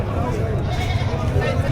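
Goats bleat amid the noisy bustle of a livestock market in Padre Garcia, Batangas, a close, rough animal call blended with crowd chatter and low rumble.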